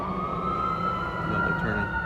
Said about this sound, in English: hear an ambulance coming.